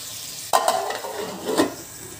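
Onions, green chillies and tomato hit hot oil for a crab curry and sizzle, with a sudden burst of frying at the start, a spoon stirring and a second flare of crackling sizzle later.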